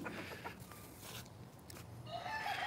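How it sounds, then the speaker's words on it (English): Roosters and chickens on a backyard plot with fruit trees crow and cluck, overlapping calls at moderate distance with a sharper crow rising toward the end. "Sketchy ass roosters will eat you."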